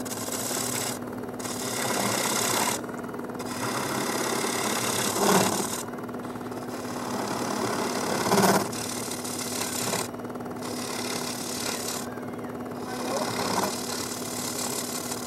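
A wood lathe hums steadily while a bowl gouge cuts a bowl in rhythmic passes, each rasping scrape swelling and easing with short gaps between strokes.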